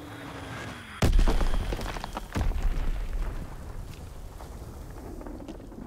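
Azon bomb explosions in a naval battle video game: two heavy booming blasts about a second apart, each followed by rumbling debris and a churning, wind-like roar that slowly fades.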